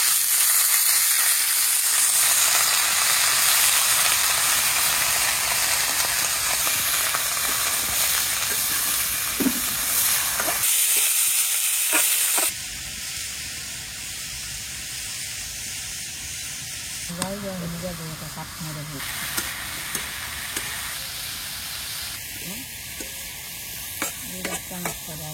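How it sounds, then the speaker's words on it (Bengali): Cauliflower, potatoes and onion fry in a pan, a continuous hissing sizzle that grows louder early on, then settles lower, with occasional stirring scrapes and a brief voice. "যে পেঁয়াজটা একটু ভাজি হয়ে গেছে, এখন কবি আর আলু একসাথে দিয়ে দিতেছি।"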